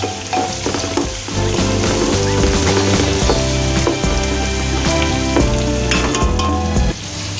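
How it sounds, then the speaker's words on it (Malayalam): Sliced onion and slit green chillies fry in a pan for a Malabar chicken dum biryani, giving a loud, steady sizzle that runs unbroken and close throughout. "അതും കൂടി ഇട്ടിട്ട് ഒന്ന് മൂപ്പിക്കുക"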